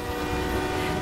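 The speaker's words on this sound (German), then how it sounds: "Warum tutet der Zug?" A steady, loud train horn blares continuously from a moving train in the video game Beyond: Two Souls, a sustained drone with a rumbling undertone and no talk.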